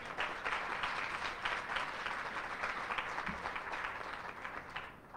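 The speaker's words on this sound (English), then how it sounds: "So big round of applause to all the wonderful staff." An audience claps steadily at a guide dog and service dog graduation ceremony, a dense, sustained round of applause that carries evenly throughout and tapers slightly at the end.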